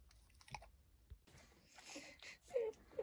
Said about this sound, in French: Mais t'as du mal à mâcher du poireau.